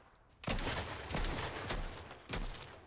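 Gunfire in Fortnite comes as four sharp, echoing shots spaced roughly half a second to a second apart, each trailing off into a rumbling tail over steady background noise.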